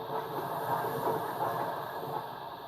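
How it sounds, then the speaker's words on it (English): The Flying Scotsman, a large 3-cylinder steam locomotive of about 96 tons, running with a steady rumbling rail roar and faint hiss, close and continuous throughout. "It's a large locomotive. It's a 3-cylinder engine, 96 tons or so."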